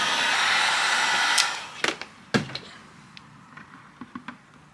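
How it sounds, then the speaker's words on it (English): Loud, steady blowing roar of a heat gun warming a plastic bucket cuts off partway through, followed by scattered clicks and knocks of handling. "It's really good when you're working with plastic in the heat gun."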